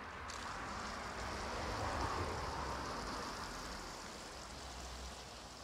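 Water pours steadily onto very dry soil in a compost or worm burial bed, a continuous close hiss and patter like light rain, holding level and alone for several seconds with no talk.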